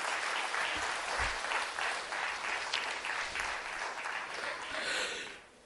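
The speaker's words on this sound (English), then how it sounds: "he deserves a larger round of applause" Sustained, dense applause from an audience at a literature festival after a professor's address, steady and loud for several seconds, then tapering off at the end.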